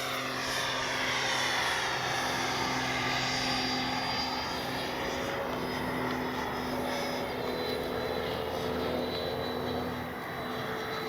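A Freewing F-22 90mm EDF RC jet flies overhead after takeoff, its steady whining turbine roar loud and continuous for the full stretch with no voices.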